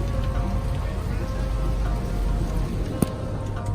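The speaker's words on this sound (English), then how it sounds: "I can see it. It's raining." Steady rain falls on an outdoor car show, a dense continuous hiss of drops on surfaces heard close and fairly loud, with one brief sharper tap near the end.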